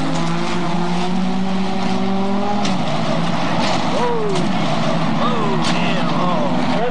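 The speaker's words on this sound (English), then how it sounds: "Engines roar as the race begins, and drivers jockey for position" Race car engines roar as the field starts a race in Sacramento, a loud continuous mechanical drone with rising and falling pitch sweeps as cars pass, under a narrator's voice.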